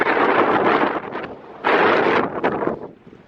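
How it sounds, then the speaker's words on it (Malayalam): Loud, blustery wind buffeting the microphone in strong gusts at Parunthumpara, Idukki, with rumbling roars that swell and briefly ease before surging again. "അവിടെ നല്ല കാറ്റടിക്കുന്നുണ്ട്"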